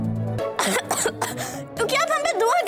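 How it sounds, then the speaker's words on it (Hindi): A woman coughs loudly and close up in a few rough bursts mixed with voiced throat clearing, with short pauses between them. "अच्छा तो देखिए कैसे खांस रही हैं"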